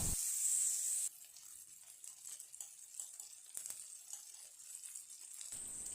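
Spices, asafoetida and tomato for chow chow kootu roasting in a hot pan, a loud hiss at first that drops to a softer, crackling sizzle with scattered spits.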